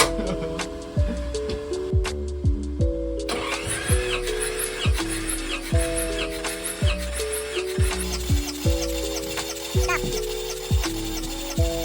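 Kohler 28EFOZD generator engine cranking on its starter solenoid, a steady rhythmic chugging with regular compression pulses for about twelve seconds, close and continuous.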